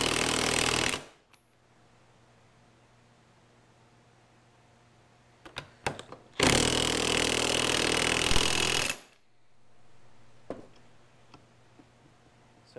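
A power tool tightening down a Ford 8.8 IRS differential being rebuilt, with a pry bar holding it from spinning: two loud rattling bursts, one short and one about two seconds long, separated by quiet gaps and a few clanks.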